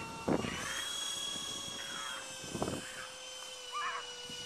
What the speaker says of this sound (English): Pretty good for a ducted fan cargo jet, big porky ball in the sky.